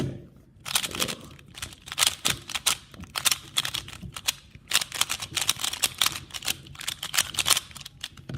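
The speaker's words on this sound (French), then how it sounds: "Alors je vais mélanger mon cube" A Rubik's cube being scrambled by hand, with rapid bursts of crisp plastic clicking and rattling separated by short pauses, close and fairly loud, with no talk.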